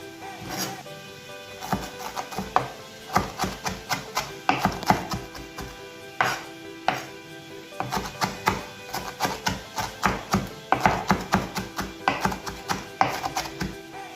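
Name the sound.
chopping fresh coriander with a knife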